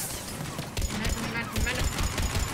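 Gunfire in the video game Mass Effect 3, with rapid bursts of shots rattling in quick succession under a fairly busy, faint background mix.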